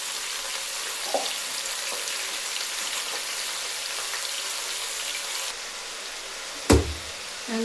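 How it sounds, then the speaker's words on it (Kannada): Country chicken frying in a pan for village-style sambar gives a steady, even sizzle with faint crackles. A brief louder clatter comes near the end. "ಇದು ಸ್ವಲ್ಪ ಫ್ರೈ ಆಗಲಿ"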